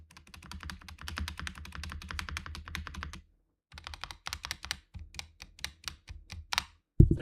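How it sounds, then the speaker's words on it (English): Typing on a mechanical keyboard with untuned, rattling stabilizers: a fast burst of clacky keystrokes, a short pause, then slower individual presses with rattly bottom-outs, loud and close. "These stabs are also awful. Listen to these stabs."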